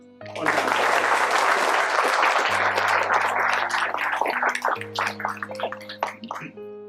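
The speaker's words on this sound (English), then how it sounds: "please join me in a quick round of applause, thanking everybody" A round of audience applause at a Cape Cod Community College pinning ceremony, a dense wash of clapping over a steady low sustained tone, thinning into scattered claps toward the end.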